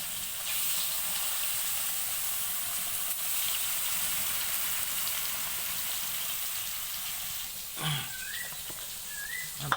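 Fish sizzles steadily in hot oil in a wok, a continuous broadband hiss that stays even throughout, with a few brief knocks and clatters near the end.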